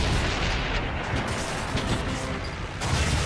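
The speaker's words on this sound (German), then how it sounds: "die schmeißen Granaten" Grenades exploding in the war strategy game Blitzkrieg 3, a loud continuous rumble of blasts and battle noise with a few sharper impacts rising out of it.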